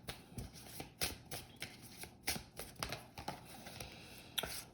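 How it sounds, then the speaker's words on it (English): Tarot cards from Mystic Moon's deck are shuffled by hand, a quiet, close run of crisp riffling bursts repeating roughly every half second, with no talk. "now we're going to get a few cards from Mystic Moon's deck"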